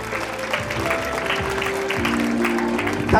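Applause from a school alumni-meet audience in a hall, a steady wash of clapping running the whole stretch, moderately loud, with some voices and background tones mixed in.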